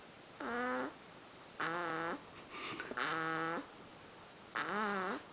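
A child snoring loudly while asleep, four rhythmic harmonic rasping snores with short quiet gaps between them, close to the microphone.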